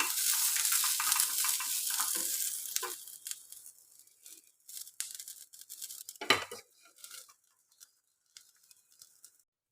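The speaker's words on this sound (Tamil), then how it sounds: "லோ ஃப்ளேமில் வச்சு கொஞ்சம் நேரம் வதக்கி மூடி வைக்கலாம்" Cluster beans, green chillies and tamarind sauté in a pan on a low flame, starting as a dense sizzle that quickly dies down into scattered crackles, with a few sharp clinks of a utensil on the pan.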